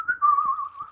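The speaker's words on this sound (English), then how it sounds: "Who's whistling?" A person whistles one brief, clear, sustained note with a slight wavering pitch during a Minecraft gaming session, close and fairly quiet, with faint soft knocks beneath.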